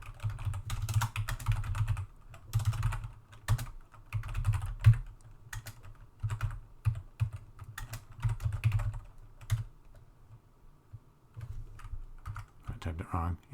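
Bursts of rapid clicking from a computer keyboard while a C program is typed in a lecture, with pauses between runs of keystrokes and a low room hum under faint talk.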